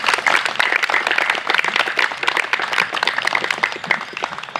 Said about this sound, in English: how about one more round of applause for our 7